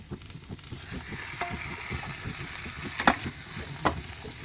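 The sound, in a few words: onion and curry leaves frying in a pan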